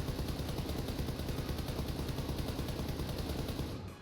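Sustained automatic fire from an M4 rifle in the console version of PUBG, a rapid, evenly spaced stream of loud shots running for about four seconds with no talking.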